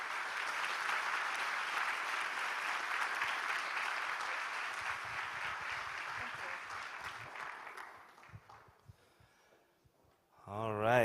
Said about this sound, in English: a round of applause for Josh for joining us